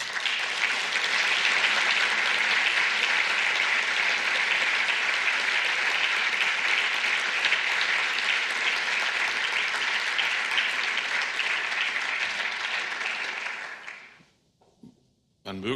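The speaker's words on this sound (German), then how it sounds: "wir müssen das jetzt per Applaus mal ausdrücken" A hall audience at a Werner-von-Siemens-Ring award ceremony applauds loudly and steadily for about fourteen seconds, with dense, even clapping that fades out abruptly at the end.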